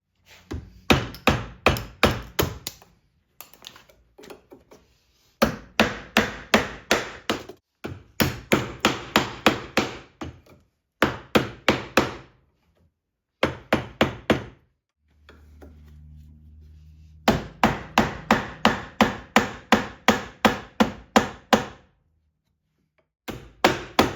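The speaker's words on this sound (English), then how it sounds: "I'll have to focus my hammer strikes up here." A hammer repeatedly drives a small harvester knife into a 2x4 board, producing loud, sharp, close strikes in fast rhythmic bursts separated by brief pauses, with a low hum in one gap.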